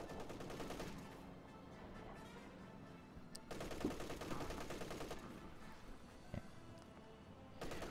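Machine-gun fire in the real-time strategy game Company of Heroes 2, rattling bursts at moderate distance with sharp single cracks between stretches of sustained firing, fairly quiet overall.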